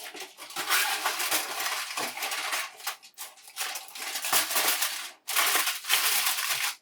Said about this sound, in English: put a little bit of foil on it.